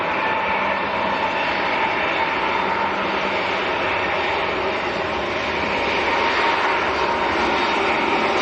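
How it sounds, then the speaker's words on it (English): Emirates Airbus A380 jet descending toward Manchester Airport, a steady, loud engine roar and whine that holds evenly throughout, with no talking. "The Emirates A380 has just started the descent"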